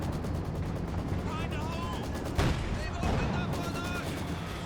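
Mortar fire and battle noise in the strategy game Company of Heroes 2, a dense rumble of scattered gunfire with a couple of heavier impact thumps standing out near the middle, under a busy combat mix.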